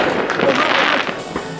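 A brief burst of New Year's Eve fireworks crackles and booms outdoors, a dense noisy rush that fades after a second, with faint voices in the background.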